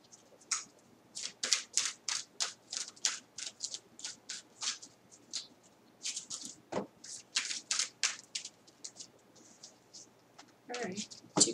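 Oracle cards from an angel oracle deck being shuffled in a quick series of crisp riffling bursts, close by, with brief pauses between runs.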